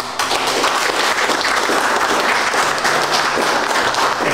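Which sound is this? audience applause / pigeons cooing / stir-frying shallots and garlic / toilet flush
audience applause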